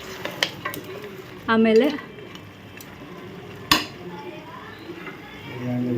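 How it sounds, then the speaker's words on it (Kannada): Chicken curry with tomatoes being stirred in a pan, a spoon scraping and clinking against the metal under a low sizzle, with a louder clatter near the middle and a person speaking briefly. "ಟೊಮೊಟೊ ಹಾಕೋದು ಅದರೊಳಗೆ ಹಾಕಿ ಮತ್ತೆ ನೀಟಾಗಿ ಮಿಕ್ಸ್ ಮಾಡಿ"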